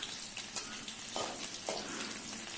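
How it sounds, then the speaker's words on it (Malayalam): Cut ginger and garlic sizzle in hot oil for a pickle, a continuous close crackling hiss with a couple of soft stirring scrapes and no voices. "ചൂടായി വന്ന എണ്ണയിലേക്ക് നമ്മൾ കട്ട് ചെയ്ത് വെച്ചേക്കുന്ന ഇഞ്ചിയും വെളുത്തുള്ളിയും കൂടെ ചേർത്ത്"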